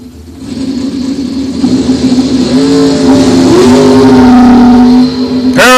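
A dragster and a wagon launching at a bracket drag race, loud close engine roar rising steadily as the cars pull away, ending with a sharp burst.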